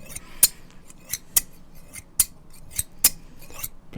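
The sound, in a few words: old-fashioned scissors snipping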